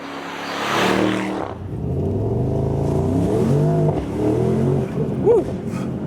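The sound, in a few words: Mercedes-AMG SL63 accelerating 0 to 40 mph, exhaust pops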